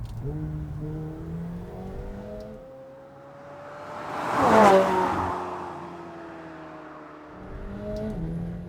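McLaren 720S sports car accelerating, engine note rising through the gears with a whooshing peak as it passes close, then easing off and building again, no talk.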